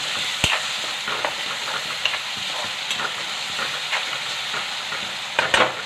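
Okra and tomato sizzle and fry in a pan, a steady close crackle with occasional stirring clinks and scrapes, no voices over it.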